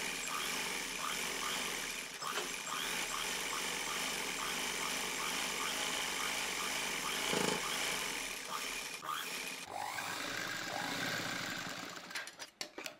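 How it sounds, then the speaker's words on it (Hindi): A sewing machine runs a double line of stitching along kurti fabric, its fast rhythmic needle chatter continuing steadily before slowing and stopping with a few loose mechanical clicks at the end. "इसमें डबल सिलाई कर लेंगे।"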